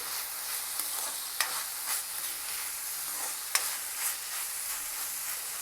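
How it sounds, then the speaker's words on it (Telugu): Bean pieces being mixed in a pan while making patholi: soft scraping and stirring with a gentle sizzle, broken by a few sharp clicks of a utensil against the pan. The sound is close but fairly quiet, with no talking. "మళ్ళీ ఒకసారి కలుపుదాం ఈ ముక్కల్ని."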